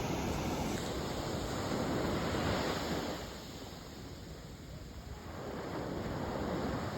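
Ocean waves break at Serenity Beach in Pondicherry, a continuous rushing roar of surf with wind on the microphone. The roar eases midway, then swells again, and no voices can be heard.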